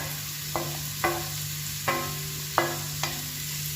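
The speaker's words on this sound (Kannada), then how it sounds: "ಅದಕ್ಕಾಗಿ ಕಟ್ ಮಾಡಿ ಇದನ್ನು ಫ್ರೈ ಮಾಡ್ತಾ ಇದ್ದೇನೆ" Chopped garlic fries in a pan for a sardine pulimunchi, with a faint steady sizzle and about five short scraping stirs spaced irregularly, close and quiet, with no speech.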